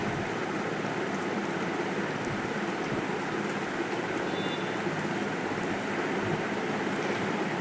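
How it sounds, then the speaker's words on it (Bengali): Heavy rain pours down outdoors beside a road, with water running along the street; a dense, steady hiss of falling drops and flowing water, constant and even throughout with no voices. "এত জোরে বৃষ্টিটা হচ্ছে যে রাস্তা বেয়ে জল চলে যাচ্ছে।"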